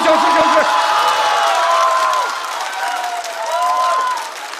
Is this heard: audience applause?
yes